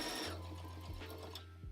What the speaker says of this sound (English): So we're going to sew down the short side completely.